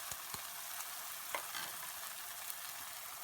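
Powdered spices, turmeric, Kashmiri red chilli and coriander, fry in oil in a pan for shahi paneer korma with a steady hiss and sizzle, broken by a few faint clicks of stirring.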